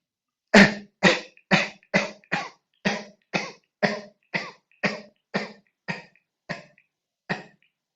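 A series of about fourteen sharp, forceful coughs in a steady rhythm, done as a breathing exercise in a healing class, close and loud, each followed by a brief pause, with no talking.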